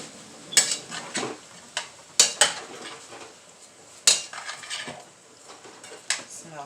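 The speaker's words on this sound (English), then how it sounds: "I'm gonna stir it up some" A utensil stirring food in a cooking pot, with irregular clanks and scrapes against the metal, some sharp knocks, close and moderately loud with no talk.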